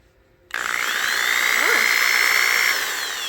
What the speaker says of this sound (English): And that's how we're going to grind the valves.